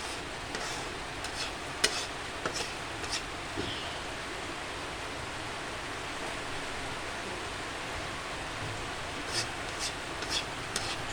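Homemade ghee simmering in a pan gives a soft, continuous sizzle and bubbling, with faint scraping from occasional stirring, quiet and close, with no talk.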